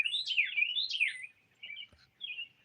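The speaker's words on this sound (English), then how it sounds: "I can't see well enough to tell you what kind of bird it is. I see it in the tree" A bird calls loudly from a tree with bright, warbling chirps and twittering phrases, a long burst followed by two shorter ones, clear and fairly near against a quiet background with no talking.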